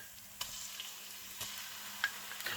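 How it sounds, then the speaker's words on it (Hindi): A soft, steady sizzle of ginger and garlic frying with golden onions in a pan, with a few faint clicks and taps of stirring, fairly quiet and without talk. "इन दोनों चीज़ों को, जिंजर को और गार्लिक को, आपने सुनहरी किए हुए प्याज़ों में शामिल कर देना है"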